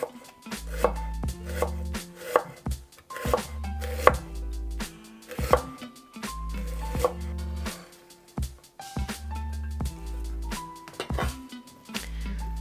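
A knife cuts a vegetable on a cutting board for shakshuka, trimming off the stem end in a run of crisp, uneven chops up close, with steady background music underneath throughout.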